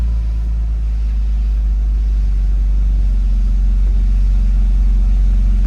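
Ferrari F355 with a misfire, its engine running at a steady, loud, deep idle throughout with a constant low hum and no clear revs, heard alone without talk.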